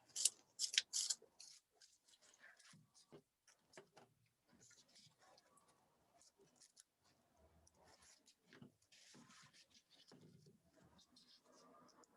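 Scissors trim tissue paper outdoors: a quick cluster of crisp snips comes first, then faint intermittent clicks and rustles in a quiet setting.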